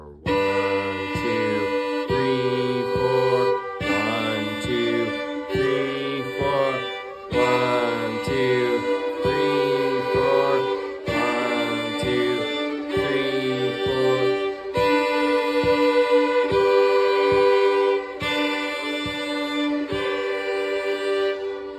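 A fiddle plays sustained double stops, holding one note as a drone while the other voice steps through chord tones in repeated bowed phrases, loud and close with no talking.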